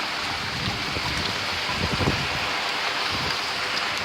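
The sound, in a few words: rain falling during Hurricane Harvey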